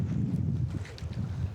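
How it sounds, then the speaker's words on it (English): Wind on the open sea during a sea trout fishing trip near Strömstad, a low steady rumbling buffet of gusts close to the microphone with no other sounds standing out. "and the wind is picking up"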